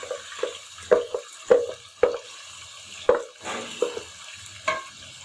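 Garlic and spice paste frying in a pan with repeated stirring: soft sizzle under a series of scraping, clattering spoon strokes at an uneven rhythm.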